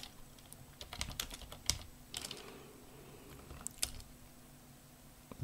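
Someone types on a computer keyboard into a search box. The keystrokes come as irregular, fairly faint clicks in short bursts, with no talking.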